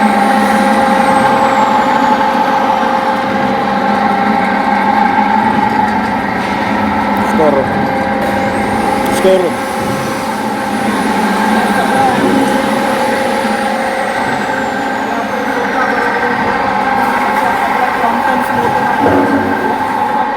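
Crompton and local-made electric motors drive cattle feed machinery, humming and whining continuously with steady tonal drones, occasional clanks and squeals, while voices talk faintly underneath.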